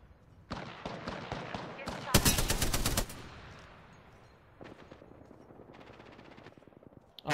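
Gunfire in a shooter video game: rapid machine-gun bursts, one especially loud and dense, followed by quieter repeated volleys, with a voice talking in the background.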